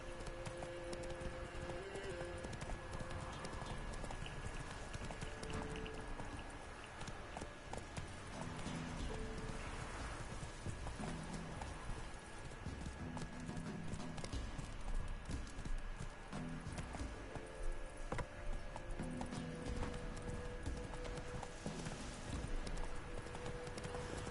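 Horse Roach's hooves clip-clop steadily in The Witcher 3, a continuous mid-level patter under game music and ambience, with occasional whinnies and no talk.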